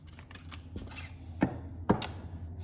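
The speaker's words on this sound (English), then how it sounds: "These bags can be tricky to cut, but like cake." A Spyderco Paramilitary 2 knife with a CPM-10V steel blade slices through a plastic bag, giving two sharp, brief cutting snaps about half a second apart over a quiet background with faint rustling.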